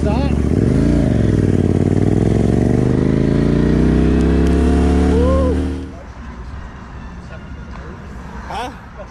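A white Gixxer motorcycle revs loudly and close, its engine tone rising and falling in a steady drone that suddenly drops away, leaving faint traffic noise and a brief whine.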